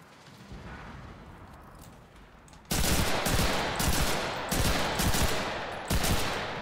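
Gunfire in the video game Enlisted, faint and distant at first, then loud rapid machine-gun bursts and rifle shots crackling close by in repeated volleys.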